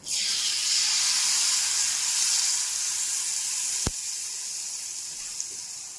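Turmeric and tamarind pulp sizzle hard in hot oil for pulihora, a loud, steady hiss that fades slowly, broken by one sharp tap near the end, with no talk.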